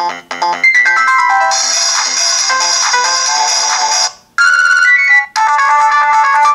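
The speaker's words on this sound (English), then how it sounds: "the ringtones have gone louder now because I put it louder" A loud, close electronic ringtone melody from a Nokia 225 4G phone plays with bright chiming tones, briefly cutting out twice before resuming.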